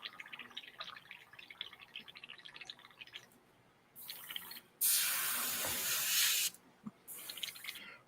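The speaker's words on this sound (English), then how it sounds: "So let me clear out this airbrush." An airbrush is back-flushed and cleared, giving bursts of loud hissing air and spray with a long sustained blast in the middle, between quieter bubbling and sputtering, close up with no speech.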